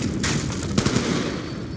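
Video game gunfire, a quick run of close, loud shots crackling over a busy background of rumble and noise.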